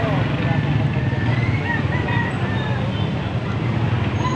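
Young fighting roosters and chickens at a Philippine poultry sale, about eleven months old, crow and cluck amid a steady bed of crowd noise and chatter, with several drawn-out crows rising above the din.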